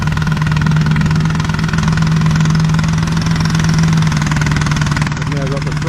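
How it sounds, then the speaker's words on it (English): A rice thresher runs with a steady, loud mechanical engine drone and rattling hum, close by, as a voice speaks over it. "we've now got the thresher going."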